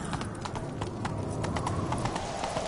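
Horse hooves clip-clop in a steady, quick rhythm in The Witcher 3 video game, a close, continuous trotting patter over a low background rumble.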